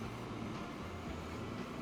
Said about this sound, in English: Just wait for this train to get out of here.